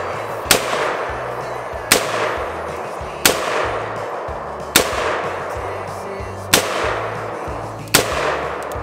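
Rifle shots from cheap steel case 7.62 ammunition fired at a tree on rural acreage: six sharp, loud reports spaced about one and a half seconds apart, each with a short echoing tail over low background rumble.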